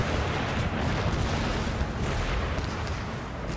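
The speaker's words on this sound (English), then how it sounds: "There's so many cannons just blasting these guys to bits." Many cannons firing in the video game Empire Total War, a dense continuous barrage of booming shots and rumble layered over one another at a steady level.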